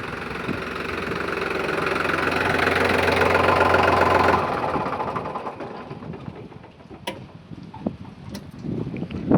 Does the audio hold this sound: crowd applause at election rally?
no